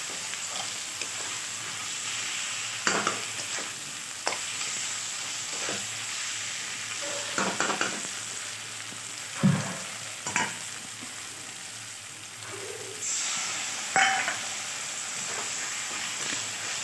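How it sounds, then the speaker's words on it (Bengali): Mutton and spices sizzle in a pot while a ladle stirs them in repeated scraping strokes, with occasional louder knocks against the metal over a continuous close frying hiss and no talk. "হাতা দিয়ে নেড়ে নেড়ে ভালোভাবে মাটনটা মিক্স করে নিতে হবে"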